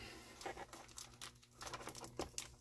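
Plastic packaging for a Futurama Mega Construx Bender and Fry set being torn and crinkled open by hand, quiet close-up rustling and patter in irregular bursts.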